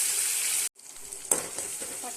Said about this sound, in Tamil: இதையும் நல்லா வதக்கி விட்டுறலாம்.